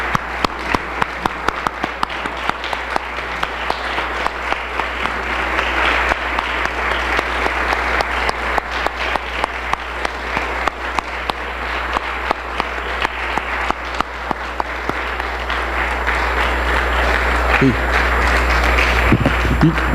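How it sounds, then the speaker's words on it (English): A congregation gives a standing ovation at a church farewell gathering, dense sustained clapping filling the room loudly and steadily throughout, with a few voices rising near the end. "why don't we all give a standing applause and give the Lord glory for the"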